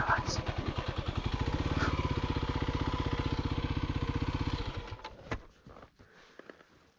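A motorcycle engine idles and revs steadily on a trail with a fast, even pulse that stays loud for about five seconds, then cuts off and leaves a few faint clicks and handling noises.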